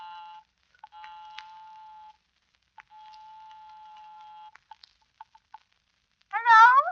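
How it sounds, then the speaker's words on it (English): A house phone in an apartment building rings twice, each a long, steady electric buzz, followed by a few soft clicks and then a voice picking up, in an old-time radio suspense drama. "I'll give 9B a ring first on the house phone."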